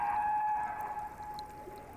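A humpback whale sings underwater: a sustained, slowly gliding tonal moan with faint harmonics that fades slightly over two seconds.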